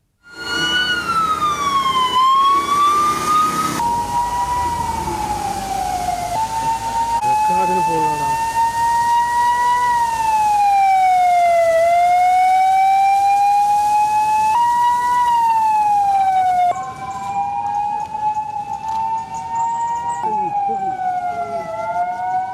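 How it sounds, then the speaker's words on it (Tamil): A fire engine siren wails loudly and continuously, sweeping up and down in a rising and falling tone, close by during a fire department safety drill. "லோக்கல் ஃபயர் இன்ஜின் வந்துட்டு"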